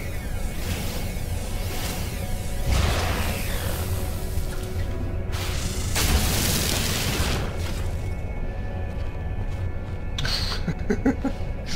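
Shots are fired at a spaceship in No Man's Sky as booming blasts and whooshing bursts swell and fade over a steady mechanical drone, with no talk.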